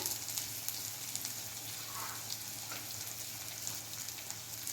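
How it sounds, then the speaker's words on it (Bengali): Chilli powder, turmeric and cumin powder frying in a pan for a fish roe dish, a steady soft sizzle running throughout at close range with faint clinks and no talking. "এবার সব কিছু আবার ভালো করে ভেজে নিচ্ছি"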